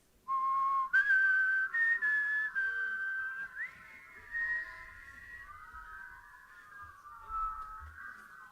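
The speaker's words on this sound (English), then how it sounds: "if you want to practice the whistling, let's try to go all together." Several people whistle together in a meeting hall, a bright wavering tone that holds, breaks and rises in pitch over several seconds, fairly quiet and with no talking over it.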